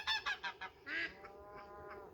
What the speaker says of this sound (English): Sound like some Canada geese flying over.